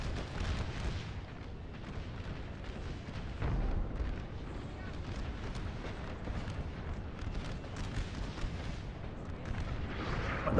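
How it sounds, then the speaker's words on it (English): Artillery fire booms across a Gettysburg battle in the American Civil War mod for Napoleon: Total War, with dense, rumbling gunfire and repeated deep bursts over constant battle noise. "Are those bullets flying all the way over? No, that's artillery."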